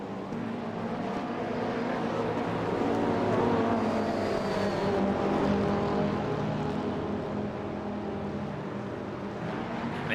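Sim racing LMDH prototype and GT3 race cars charging away from a rolling start at Montreal's Circuit Gilles Villeneuve, a dense, steady engine roar that swells mid-clip and stays loud throughout, with no talk.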